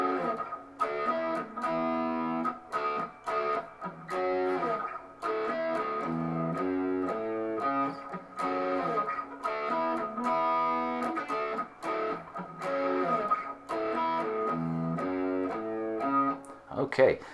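A distorted electric guitar plays the chugging chorus chord riff of a rock song, with repeated palm-muted strums and shifting chords, steady and fairly loud throughout.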